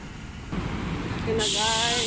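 Train noise at a station platform: a short, loud burst with a low rumble, then a rising hiss like an air brake or door release, close by with no talk.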